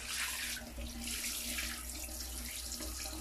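Water runs steadily from a shower as a dog is bathed and scrubbed, a continuous close hiss and splash that carries on alone with no talk over it.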